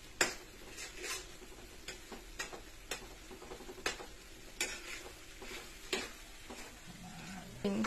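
Pork sisig stirred and fried in a pan: a steady sizzle under repeated sharp clinks and scrapes of a utensil against the pan at an irregular pace, close by, with no talking.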